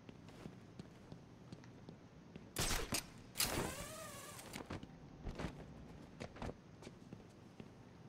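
Fireworks burst in Batman: Arkham Asylum, two loud sharp cracks with crackling tails standing out against a quiet background, followed by a few fainter pops.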